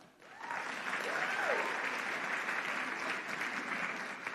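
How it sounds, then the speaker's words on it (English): Audience at a live event at Norfolk State clapping in a sustained, steady round of applause that fills the whole stretch, moderately distant. "y'all clap if y'all in this group are 65 plus, clap"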